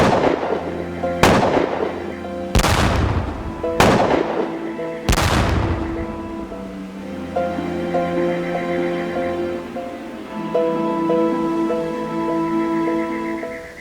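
Gunfire in a staged gunfight: four or five loud, sharp shots spaced about a second apart up close, followed by lingering tonal ringing and rumble.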